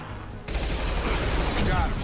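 Hand SMG pistol firing in Mass Effect 2, a rapid burst of gunfire that erupts abruptly after a short quiet lead-in and continues as a dense crackling stream with other combat noise.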